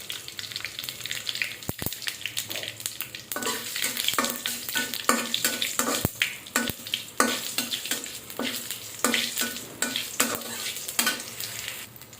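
Dried red chilies and cumin seeds sizzle and crackle in hot oil for a dal tempering, with steady frying hiss and repeated stirring scrapes and clinks of a spoon against the pan.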